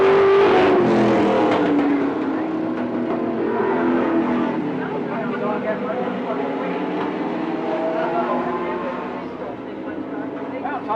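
Several race cars lapping a track at a 2004 racing event, a sustained loud engine drone with shifting pitch throughout, mixed with what may be a commentator's voice over the crowd.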